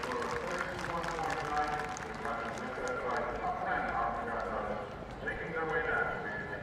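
The 11-year-old horse MCS Maverick galloping on the cross-country course at the Badminton Horse Trials, rhythmic hoofbeats under a commentator's continuous voice, with crowd noise around.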